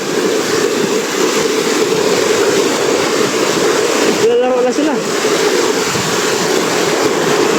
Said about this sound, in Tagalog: Rumaragas ang tubig na yan.